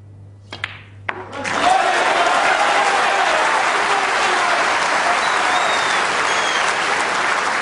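A snooker crowd at the 2011 World Snooker Championship final bursts into loud, sustained applause and cheering as the blue is potted, after a couple of sharp knocks of the balls beforehand; the clapping swells quickly and stays dense and even.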